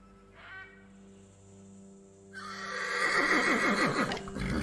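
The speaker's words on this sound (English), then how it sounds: "It sounds like a horse." A horse in the video game The Ancients whinnies loudly with a shaky, descending neigh after a brief tone and quiet hum, heard up close and alone.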